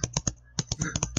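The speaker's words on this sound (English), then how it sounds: "All I hear is pounding on the keyboard." Rapid, uneven clacking of keys pounded on a computer keyboard during an online Toontown game session, close and fairly loud, with about nine sharp strikes in just over a second.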